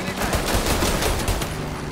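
Gunfire in Mafia: Definitive Edition: dense, rapid overlapping shots in a constant loud barrage with no gaps, close by and unbroken for the whole stretch.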